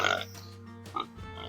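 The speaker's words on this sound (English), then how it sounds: "And we got the little pigs." Little pigs on a home farm grunt and oink in short bursts close by, mixed with a voice talking briefly.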